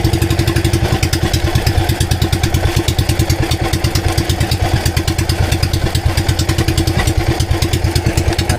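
Misfiring engine on a small fishing boat at sea, a loud, uneven chugging with rapid rhythmic thumps and clatter that runs steadily, alone with no talk.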